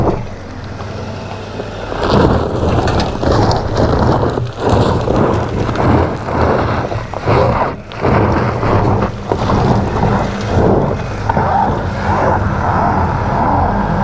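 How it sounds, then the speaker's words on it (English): Gas engine of a Ford Maverick Hybrid Lariat FWD pickup working hard off road with the pedal floored, a steady loud drone mixed with wind buffeting and rough terrain noise, continuous throughout with no talk. "gas engine's on."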